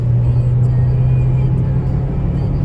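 A 2007 Chevrolet Optra 1.6 LS manual sedan accelerating in third gear, a steady loud engine drone with a sustained low hum heard from inside the car, no talking.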